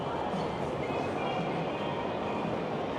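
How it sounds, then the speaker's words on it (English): A PATH train bound for New Jersey rumbles past at close range, a loud, steady roar of wheels and carriages that lasts the whole stretch, with no talk on top. "Path trains to New Jersey."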